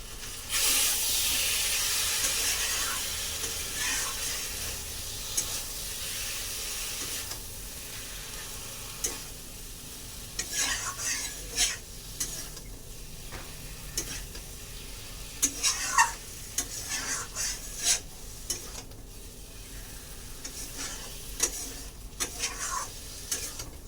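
Taro stolons and ground shrimp paste fry in a pan, with a steady close sizzle and hiss broken by intermittent scraping stir strokes.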